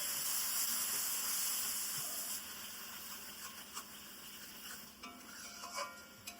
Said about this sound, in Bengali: টক দই দিয়ে সাথে সাথে নাড়তে হবে, আর গ্যাসের ফ্লেমটা একটু কমিয়ে দিতে হবে